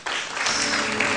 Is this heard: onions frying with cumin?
no